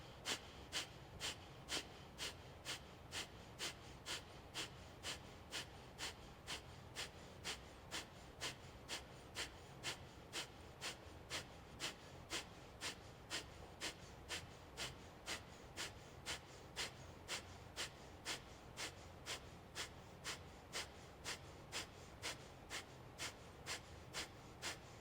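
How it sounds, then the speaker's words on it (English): Rapid, steady pumping breaths from the diaphragm in a cleansing breath exercise, a long even train of sharp nasal exhalations about two per second, close and quiet, with no talking. "This time a round of 64, so 3/4 of the breath out, and begin to pump the diaphragm"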